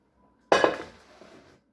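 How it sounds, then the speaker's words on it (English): A deep metal frying pan is pulled out from among stacked cookware, making a single clattering clank with a brief ringing rattle that fades within a second, close by with no talk. "take out this deep dish, this deep frying pan"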